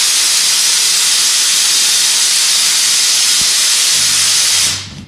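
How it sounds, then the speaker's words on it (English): A loud, steady hiss of air from a compressor runs close by for several seconds, then tapers off abruptly at the end. "it's my compressor."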